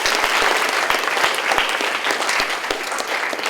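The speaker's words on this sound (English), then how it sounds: "round of applause for Maddie and Duke" Meeting audience giving a round of applause for Maddie and Duke, a dense burst of many hands clapping in a room, loud at first and tapering slightly over a few seconds.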